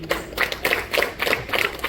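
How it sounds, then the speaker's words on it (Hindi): An audience at a Kathak dance workshop in a college hall in Panipat claps together in a steady, rhythmic beat, loud and close, with no voices over it. "मैं चाहती हूँ बच्चे एक बार फिर से तालियों से अभिनंदन"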